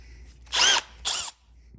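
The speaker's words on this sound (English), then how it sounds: "Let's go with the hammer drill." A Milwaukee M12 hammer drill runs in two short, loud, whirring bursts about half a second each, separated by a brief pause, with quiet before and after.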